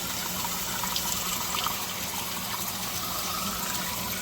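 Water gushes and splashes steadily as a thermostat from a 2008 Audi TT is cooled in cold water, a continuous rushing pour at close range with no talk.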